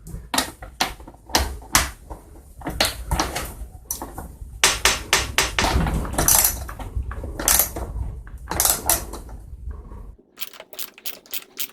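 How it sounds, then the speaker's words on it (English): A 9/16 socket on an extension loosening the mount nut on an Echo GT 225 string trimmer head, heard as a run of sharp metallic clicks and ratcheting taps in irregular bursts, close and fairly loud. "I'm going to use that to loosen the nut that holds the head on"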